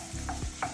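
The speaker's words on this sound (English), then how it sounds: "I have the pan on medium. I want to get a little bit of color to this chicken." Chicken pieces cook in a pan over medium heat, with a soft steady sizzle broken by a couple of brief scraping stirs, close and fairly quiet, with no talking.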